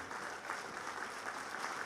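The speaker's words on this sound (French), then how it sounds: "je vous demande d'applaudir" Applause from the crowd at a political campaign meeting in Bastia, a brief, soft, even patter of many people clapping at a distance.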